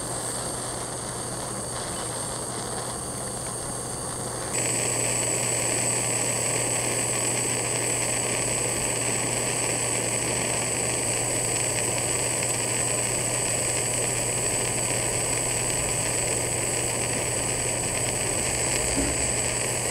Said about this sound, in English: Okay, now we have a 2x4 piece that I'm going to try to burn with a blowtorch for 5 minutes